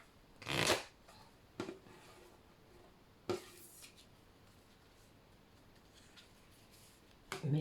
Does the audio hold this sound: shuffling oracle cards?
yes